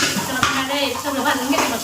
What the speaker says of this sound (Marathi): थोडंसं तेल टाकून भाजून घ्यायचं मस्त. कांदा, खोबरं सगळं भाजून घ्यायचं.